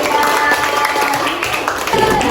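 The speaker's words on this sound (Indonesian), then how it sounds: "beri tepuk tangan untuk kelompok 1" A classroom of students applauds a group after its presentation, a dense, steady patter of hands close by with voices mixed in.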